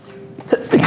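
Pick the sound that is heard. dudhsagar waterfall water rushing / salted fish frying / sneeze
sneeze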